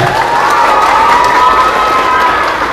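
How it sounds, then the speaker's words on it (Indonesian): An audience gives a teacher a loud, sustained round of applause at a religious gathering, dense clapping and cheering filling the space without a break. "Berikan aplaus dulu buat Bapak gurunya."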